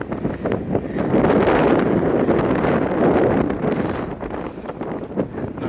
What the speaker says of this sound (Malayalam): നല്ല ഹെഡ് വിൻഡാ.